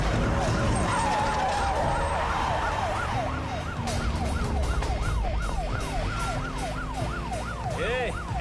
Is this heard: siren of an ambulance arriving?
yes